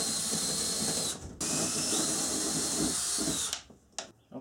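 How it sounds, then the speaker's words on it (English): A power drill whirs steadily at close range boring wire holes in a vintage Shasta camper trailer's ceiling panel, pausing briefly once, then cutting off near the end with a few short clicks. "Now I need to drill some holes for the wires to go through."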